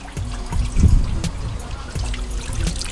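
Car radiator coolant draining from the opened drain plug onto a driveway, a steady close trickling and dripping with small irregular splashes throughout.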